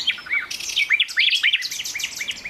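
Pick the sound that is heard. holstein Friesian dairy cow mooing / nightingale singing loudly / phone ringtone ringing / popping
nightingale singing loudly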